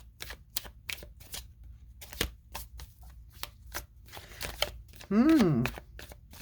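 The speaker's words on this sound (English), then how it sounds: "Shuffle, shuffle, shuffle." A deck of oracle cards is shuffled in repeated quick riffling bursts, close up, followed by a brief soft vocal sound near the end.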